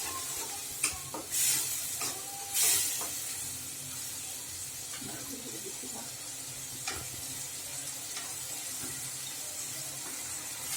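Eggs frying in a pan for a Bengali-style egg roast, a steady soft sizzle and hiss with occasional stirring scrapes and brief louder spits of steam.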